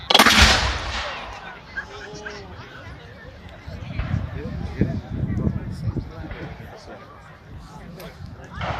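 A US Civil War cannon fires at an outdoor artillery display: one loud blast right at the start, then a long rumbling tail with crowd murmur and someone talking beneath it.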